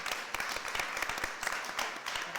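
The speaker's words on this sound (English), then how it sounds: "So I think that's a round of applause, surely." An audience applauds loudly for the whole stretch, a thick spread of many hands with a few sharper claps standing out, and no one speaks over it.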